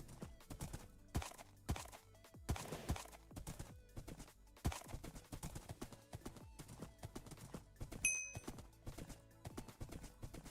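A horse in the video game Minecraft clip-clops steadily, its hooves striking in a quick, even rhythm throughout, with a brief chime partway through.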